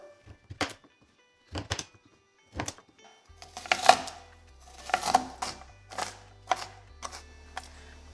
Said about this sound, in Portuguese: O primeiro passo é cortar a abóbora em cubinhos.